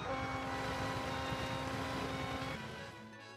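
A boat motor in the video game Paper Mario: The Origami King hums steadily at a constant pitch, loud and alone, then eases off slightly near the end.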